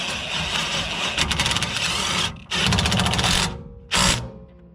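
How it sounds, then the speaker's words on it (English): A power drill whirs in close bursts tightening a bolt on a trailer, running steadily, stopping briefly, then spinning again before a final short burst. "I'm going to use my drill all the way."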